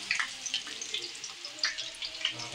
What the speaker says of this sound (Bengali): তারপরে সবজিগুলো আমি ভেজে নিচ্ছি।